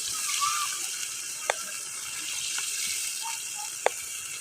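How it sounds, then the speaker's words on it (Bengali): Water steadily pours into a pan of hot oil while making a Bengali fish curry, with a continuous hissing wash and a few faint clicks from the pan. "এবার আমি পরিমাণ মতো জল দেব।"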